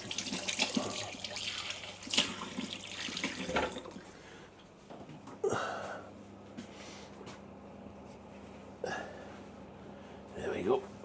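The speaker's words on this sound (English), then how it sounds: "Let's rinse my hands." A kitchen tap runs into a sink as hands are rinsed during pie making, splashing in bursts for the first few seconds, then quieter intermittent water sounds and clatter, with a person speaking over it.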